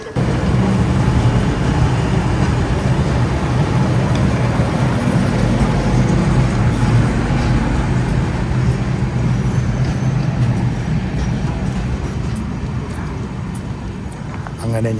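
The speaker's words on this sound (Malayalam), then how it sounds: "അപ്പൊ ഇതാണ് കേട്ടോ നമ്മൾ വന്ന ട്രെയിൻ" A passenger train on the Thiruvananthapuram to Coimbatore route rumbles steadily nearby, a loud continuous roar of rolling wheels that gradually fades a little toward the end.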